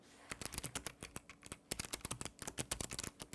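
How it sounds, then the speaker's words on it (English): Rapid clicky typing on the keys of a Logitech wireless gaming keyboard, close and crisp, a fast irregular run of sharp key presses with brief pauses, no voices. "The keys are a little bit louder than some keyboards out there."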